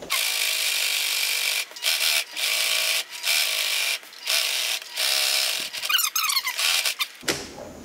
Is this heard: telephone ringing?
no